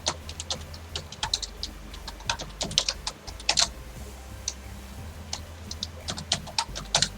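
Rapid clicking keystrokes on a computer keyboard while filling in a quiz form, close and crisp over a low steady hum, with uneven rhythm throughout.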